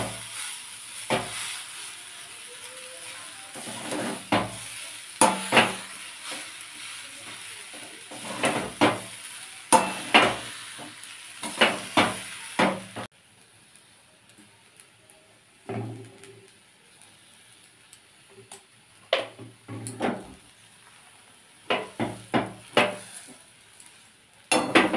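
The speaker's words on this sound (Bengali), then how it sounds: "এরপর আলুটাকে ভেজে কষতে খানিকটা বাদে আমি বিট নুনও দেবো" Grated potato stirred with spices and rock salt in a pan for a stuffed potato paratha, heard as irregular scraping and metal clinks with a faint sizzle underneath. A quieter stretch follows midway, then more clattering stirs.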